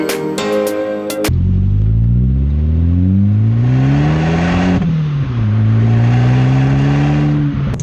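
An Abarth 595 Turismo starts up and revs, its engine note climbing, dipping and climbing again as the car pulls away. The sound is close, loud and continuous.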